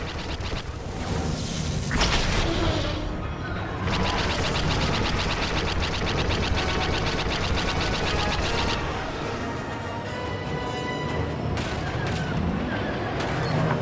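Proton torpedo blasts in the Star Wars Battlefront II space campaign, a dense, loud continuous barrage of booming explosions and rapid fire with whooshes, sustained throughout and briefly thinning near the middle.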